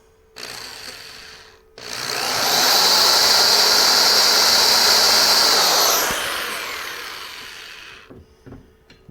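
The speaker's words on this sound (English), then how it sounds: "Now I'll go down here and drill on the other one." A power drill bores into wood while parts for a coin pusher cabinet are built. The motor whirs up and grinds steadily through the cut for about four seconds, then spins down, with faint knocks and handling noises around it.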